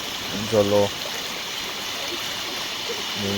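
Water rushes steadily over stones in a park stream, a continuous close hiss that runs the whole time, with brief snatches of a voice near the start and end.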